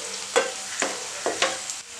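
Onions frying in a pan for a Spanish omelette, a steady close sizzle broken by several sharp stirring scrapes, with no voices.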